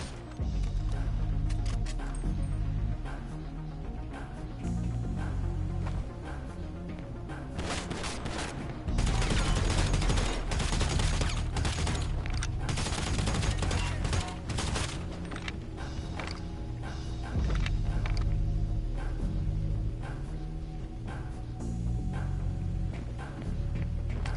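Gunfire in GTA V Online on PlayStation: dense, loud fusillades of rapid shots crackle in long bursts, with heavier volleys clustered in the middle over a constant background din.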